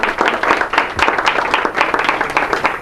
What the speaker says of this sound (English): Let's have a little applause for the savior.